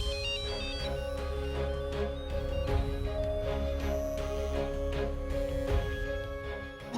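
A phone ringtone plays continuously at steady volume for several seconds, a repeating electronic melody with no talking over it.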